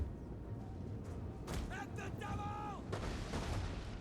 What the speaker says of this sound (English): the onagers are definitely having their effect